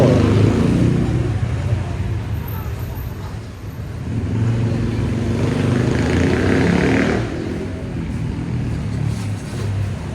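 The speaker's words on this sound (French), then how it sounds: "J'arrête la vidéo quand j'entends des scooters passer" Motor scooters buzz past nearby in steady street traffic, their engines rising and fading over a constant roadway rumble.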